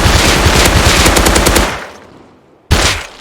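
Custom SMG in the video game Rust firing a rapid, loud automatic burst of about a second and a half, falling silent, then a short second burst at the end.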